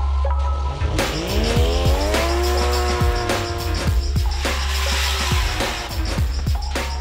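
A Toyota Altezza drifting sideways on a race track, its tires squealing in long, loud, sustained tones over a steady engine drone, with repeated sharp gear or rev changes punctuating the slide.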